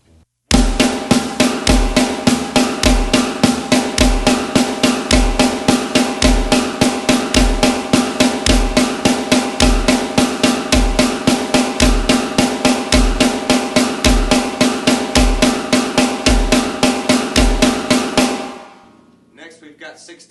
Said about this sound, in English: So 16th notes sound like this and are counted like this.